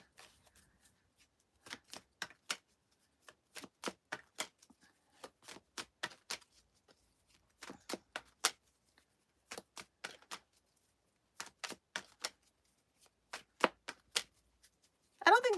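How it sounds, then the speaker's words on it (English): Tarot cards being shuffled and pulled for a reading, heard as crisp bursts of riffling and slapping clicks that come in quick clustered runs with brief quiet gaps between them, close up and with no talking. "But let me pull a couple of cards"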